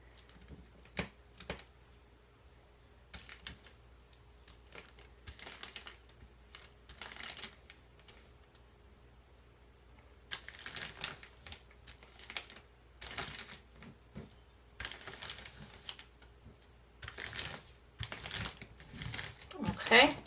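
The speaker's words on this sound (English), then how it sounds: "Smooth it out to make sure they're sticking to the transfer tape." Transfer tape is smoothed down over rhinestones on a T-shirt. The rubbing and crinkling comes in close, scratchy bursts with short pauses between them, and sometimes a voice is heard over it.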